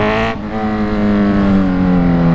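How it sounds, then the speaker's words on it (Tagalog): A Z1 motorcycle going past on a quiet Sunday road, its loud, steady engine drone holding close and sinking slightly in pitch as it passes. "Pag dumaan ng Z1 tapos nakatayo ka sa tabi ng kalsada, dinig na dinig mo siya."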